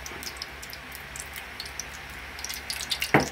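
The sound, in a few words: tuna frying in oil in a pan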